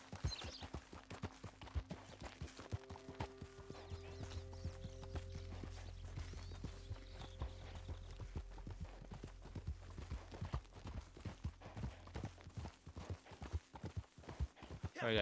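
In Red Dead Redemption 2 Online, a donkey trots along with steady clip-clop hoofbeats. Game music and faint ambience play under the hooves.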